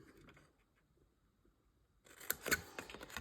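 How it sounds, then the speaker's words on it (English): Scissors snip flower stems at an angle: a faint rustle early on, then a quick burst of sharp, close cutting clicks near the end, no voice. "we're going to snip these two at an angle"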